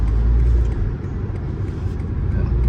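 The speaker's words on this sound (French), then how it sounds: "On entend bien le turbo." A BMW M135 F70 hybrid with a turbo engine climbs a hill, heard from inside as a loud, heavy low drone with rumbling road noise that swells and dips slightly, no talk.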